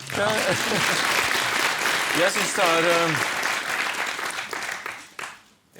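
Studio audience applauding on a television talk show, loud sustained clapping that fills the room, with someone speaking over it and the applause fading out near the end.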